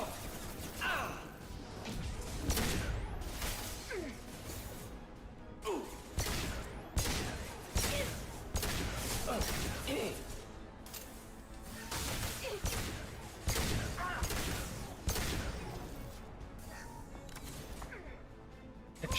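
Pistol fire in a space combat video game: repeated sharp blasts going off in quick bursts across the whole stretch, loud against busy game noise and effects.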